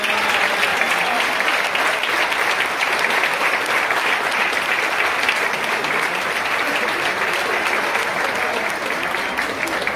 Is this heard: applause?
yes